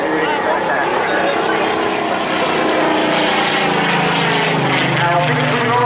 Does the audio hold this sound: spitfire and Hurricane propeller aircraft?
yes